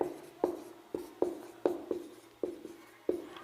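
Chalk or marker writing on a board in short scratchy strokes with regular taps, close and clear, in a quiet room with no talking.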